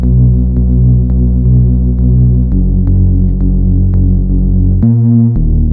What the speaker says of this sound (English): also a sub oscillator under this, an octave down